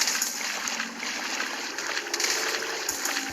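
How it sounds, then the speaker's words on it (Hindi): Steady, continuous rush of flood water in Minecraft, a broad even wash of flowing, trickling sound with no voices. "देखो हमारी पूरी सड़क के ऊपर पानी ही पानी भर गया।"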